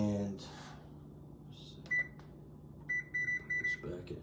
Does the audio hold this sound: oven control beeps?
yes